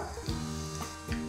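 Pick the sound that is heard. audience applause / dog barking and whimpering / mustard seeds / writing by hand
mustard seeds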